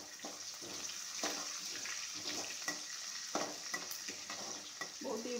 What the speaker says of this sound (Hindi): अभी उसमें हम लोग जो कटा हुआ लहसुन इसको डालेंगे